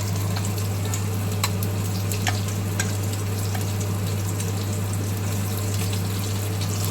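Masala-coated fish frying in a pan, heard as a steady, loud, close sizzle and crackle with scattered small pops over a constant low hum, with no voice.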